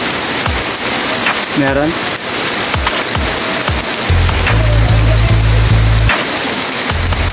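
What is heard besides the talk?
heavy rain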